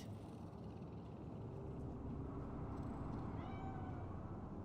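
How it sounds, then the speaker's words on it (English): A cat meows faintly in a video game, a few thin rising calls near the end over a steady low rumbling background. "Fine-looking feline."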